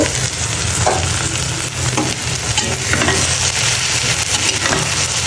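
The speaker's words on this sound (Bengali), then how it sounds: "নাড়া দিয়ে দিব ভালো করে নাড়া দিয়ে ঢাকা দিয়ে দিব" Okra frying in a pan for Bengali bhaji, loud and close, with continuous dense sizzling and the scrape of a spatula stirring through it.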